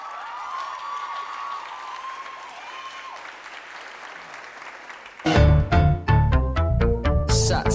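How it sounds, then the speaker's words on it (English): Steady audience applause for a beginner finalist performer at a 2017 competition, starting under a faint tonal sound, then giving way to loud music with strong beats. "Let's give her a big round of applause."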